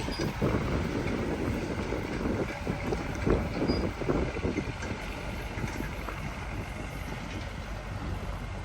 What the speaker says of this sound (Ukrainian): Вітерець, звісно, трохи присутній.